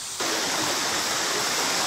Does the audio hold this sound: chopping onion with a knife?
no